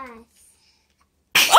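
A young boy gives a single sharp sneeze, close and loud, after a brief moment of speech and a stretch of silence.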